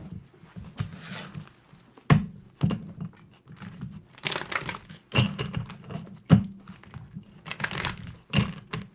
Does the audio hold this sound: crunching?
yes